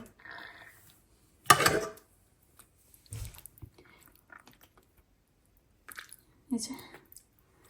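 Someone chews cooked shrimp during an iftar meal in a Bengali home, with close, wet bites and munching in short bursts separated by quiet pauses.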